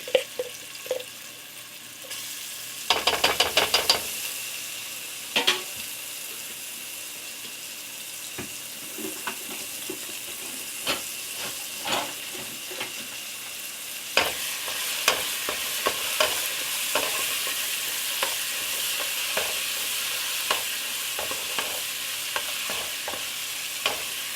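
Minced garlic fries in extra virgin olive oil in a pot over medium heat. A steady sizzling hiss builds through the clip, with sharp scraping and stirring knocks on top and a brief louder clatter early on.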